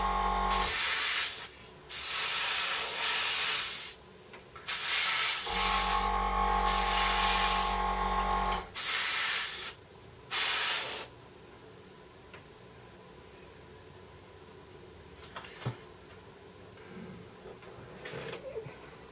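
Several hissing bursts from a spray can painting small Su-27UB model kit parts, each a few seconds long with short gaps between, followed by quieter ticking and faint handling noises.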